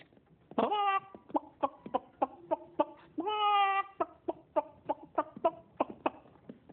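A human voice imitates a giant chicken clucking. Two drawn-out, squawking bawks are each followed by a run of short, rhythmic clucks, close and clear with no other talk.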